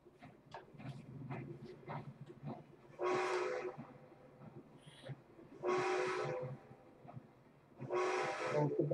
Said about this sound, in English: Don't run over by the train.